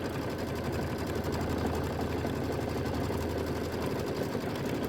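A sewing machine stitches a Kimberbell mini quilt, a continuous, close mechanical hum with rapid, even needle pulses held at a steady speed for several seconds, with no talking over it.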